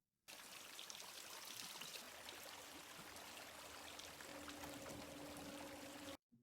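Water leaking and running steadily in a scene from the horror film A Quiet Place, a continuous pouring trickle that holds for about six seconds, with a faint low hum entering near the end.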